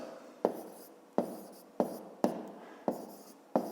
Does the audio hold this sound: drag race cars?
no